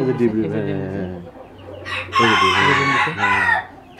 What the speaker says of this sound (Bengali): এটা হচ্ছে পৃথিবীর সবচেয়ে ছোট মুরগি